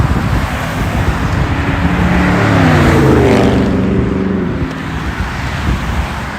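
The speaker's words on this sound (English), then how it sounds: "traffic is horrendous right now" Rush hour road traffic roars nearby, a loud continuous wash of car noise with one vehicle swelling and passing at mid-clip, mixed with wind buffeting the microphone.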